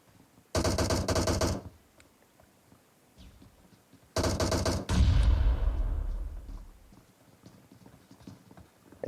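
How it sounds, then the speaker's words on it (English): A DP machine gun in a team shooter video game fires two rapid bursts, the second followed by a heavy booming blast and rumbling decay, loud and close. "Trying to unload some shots right there with that DP."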